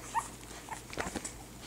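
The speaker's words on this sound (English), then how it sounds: "Let Sophie feed her puppies." Young puppies nurse from their mother dog, letting out faint, high whimpers and brief squeaks close by against a quiet background.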